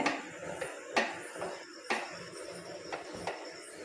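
A spoon scrapes and knocks against a pan while wheat halwa is stirred, giving sharp clinks about once a second over a soft, steady scraping, close and moderately quiet.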